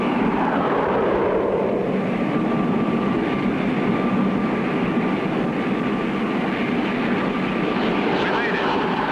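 A light plane's engine drones in flight in a cartoon, a loud, constant buzzing hum that fills the whole stretch without a break.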